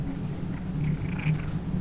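A cat purrs in The Darkest Files video game, a close, steady low rumbling purr with faint higher mewing tones, continuous and without speech.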